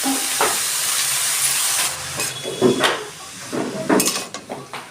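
Shrimp frying in a pan gives off a loud, steady hissing sizzle for about two seconds, followed by bursts of sizzle and the light clink of utensils against the pan.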